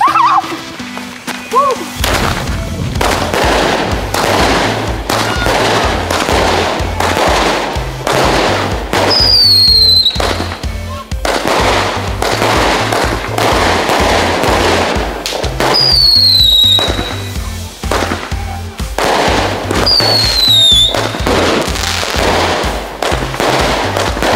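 Loud fireworks and firecrackers bang and crackle continuously, with rising whistles shooting up several times, close and intense throughout.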